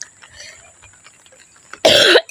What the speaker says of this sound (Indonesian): Maaf ya keluarga Tani karena batuk-batuk.